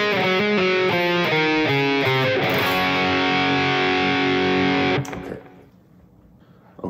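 A distorted electric guitar plays a riff: a quick sequence of picked notes, then a sustained ringing chord that cuts off abruptly, leaving faint noise.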